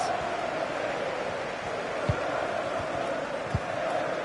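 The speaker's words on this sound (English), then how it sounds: "Well, just listen to this crowd." A football stadium crowd in the video game FC 26 keeps up a steady, distant roar beneath ongoing commentary, with a couple of brief thuds rising out of it.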